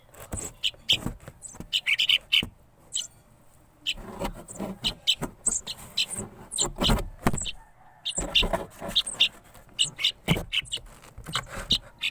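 Several birds call in short, sharp bursts that repeat irregularly, with a voice speaking over and between the calls.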